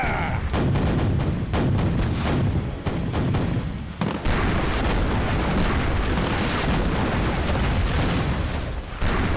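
Cartoon ship cannons firing in a naval battle at sea, a rapid run of loud booming blasts at first, then a continuous dense roar of gunfire and explosions filling the rest of the clip.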